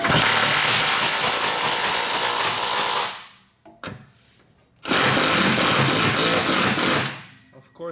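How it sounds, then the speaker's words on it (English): A ratchet tightens bolts on the center carrier bearing of an E36 BMW drift car's M3 drivetrain, making two loud, close, sustained buzzing runs of about three seconds each, separated by a short gap with faint clicks. "I just gotta tighten these bolts right here."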